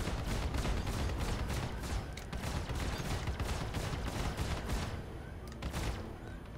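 Spaceship weapons in a space combat video game fire at a very high rate, a dense continuous barrage of rapid shots with brief dips, steady and loud throughout.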